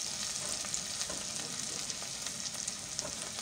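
Green chillies frying in a potato curry masala with tomato and onion, giving a soft, even, continuous sizzle with faint stirring scrapes and no talking.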